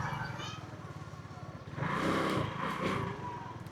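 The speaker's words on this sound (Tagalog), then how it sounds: "Meron pa rin pala siyang hagok guys pag ganun yung pag-minor natin." A Rusi RFI 175 motorcycle engine idles roughly with a faint stumble, even after its throttle body was cleaned. The steady, close mechanical chug swells louder midway, with no other sounds over it.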